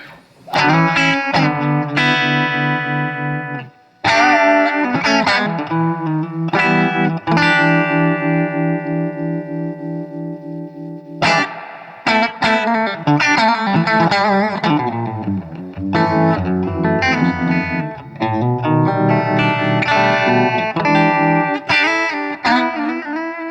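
An electric guitar through a Fulltone Deja 'Vibe pedal on its chorus setting plays chords and melodic runs with a shimmering effect, loud and close, with no voices.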